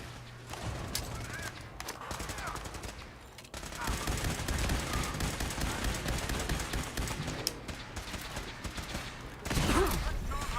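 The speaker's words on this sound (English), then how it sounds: "They're shooting rockets." Enemies firing rockets and guns in Fallout 4, continuous gunfire and blasts through a busy fight, with a voice talking over the action.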